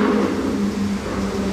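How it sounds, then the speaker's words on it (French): A Ferrari California driving past, its engine giving a steady loud droning roar with no break throughout. "Vous avez entendu le bruit de cette Ferrari California?"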